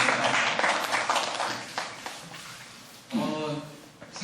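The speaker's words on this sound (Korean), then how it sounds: "박수로 마무리 짓겠습니다." Audience applause closes a logistics seminar lecture on Eurasian multimodal freight transport, a dense patter of hands filling the room that tapers near the middle, then a brief voice cuts in and the clapping resumes.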